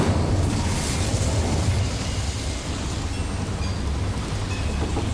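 Incendio fire spell cast in Hogwarts Legacy: a loud, dense whooshing roar of flame that holds steady for several seconds with a rumbling low end and no voices.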